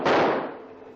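A single sharp gunshot from a 1940 theatrical film serial, a loud burst that rings out and fades over about a second, with no voices.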